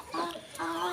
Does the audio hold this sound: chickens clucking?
yes